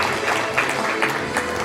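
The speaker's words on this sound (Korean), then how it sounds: "박수 한번 보내주시면 감사하겠습니다" Audience applause at a formal provincial committee meeting greets an honoree on stage, a dense steady wash of clapping filling the whole short moment with no voices.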